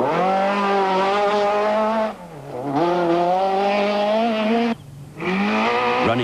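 A rally car driving flat out on a special stage of the 1995 Tour de Total, its engine loud and close, rising in pitch through the gears with two brief dips at gear changes, no voices over it.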